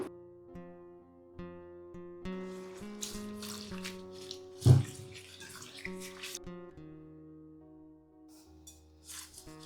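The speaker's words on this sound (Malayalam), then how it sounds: "നന്നായിട്ട് ഒഴിച്ച് കഴുകിയെടുക്കണം" Rose petals are rinsed under running water, with splashing and trickling close by and one louder splash midway, while soft music plays underneath.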